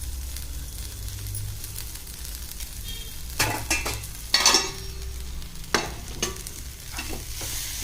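Fresh grated coconut fries with salt and chili powder in a pan while a spatula stirs it. A low sizzle runs throughout, broken by several sharp scraping strokes and clinks of the utensil against the pan, close and with no talk.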